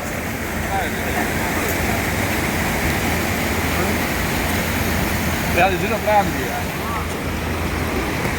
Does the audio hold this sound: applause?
no